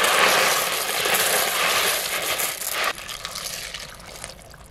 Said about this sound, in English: So now I have to add 3 cups of elbow macaroni noodles.